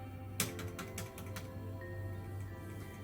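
A Motospeed CK61 mechanical keyboard key with an Outemu Red switch is pressed, giving a few quick, faint clicky taps close by over a steady background hum.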